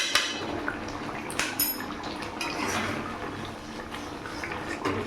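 Doi katla, a yogurt-based fish curry finished with a spoonful of ghee, is stirred in a pot, giving soft wet sloshing and scraping with a few light clinks of utensil on metal, fairly close and continuous.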